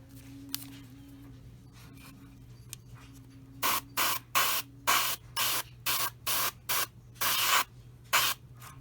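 Airbrush spraying paint onto model plane parts for an Eduard 1/48 Bf 109E-3 kit, a quiet hum followed by a series of close, crisp hissing bursts, about a dozen short sprays in irregular rhythm.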